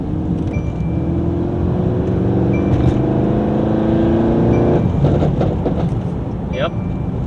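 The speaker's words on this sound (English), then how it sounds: "Go down a little full throttle, see what it feels like, see what it sounds like. I'm already hearing a little turbo spool." Porsche 911 Turbo S pulling hard at full throttle, a loud sustained engine drone rising steadily in pitch, with a faint turbo whistle above it and voices talking over the noise inside the car.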